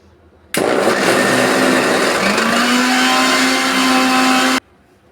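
A kitchen mixer grinder whirs loudly and steadily for about four seconds, grinding rice flour with water, starting and stopping abruptly with a slight change in pitch midway.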